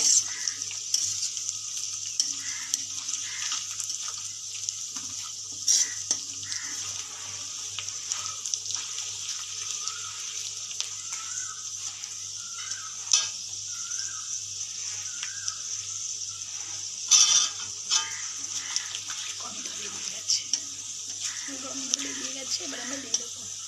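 Marinated chicken pieces sizzle and fry in spices in a pan during Bengali home cooking, a steady crackling hiss with occasional stirring clatter and a voice speaking over it.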